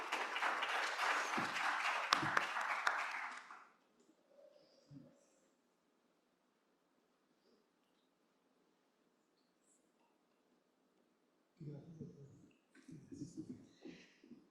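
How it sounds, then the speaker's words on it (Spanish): Brief applause from the audience at a talk on IFRS 18 financial statements, a burst of clapping lasting about four seconds before dying away into near silence, with soft voices returning near the end. "Un aplauso"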